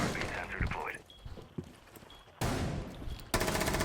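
Rapid gunfire bursts from the tactical shooter game Rainbow Six Siege, loud sharp volleys breaking in near the end after a stretch of quieter footsteps and faint game sounds, with players talking over it.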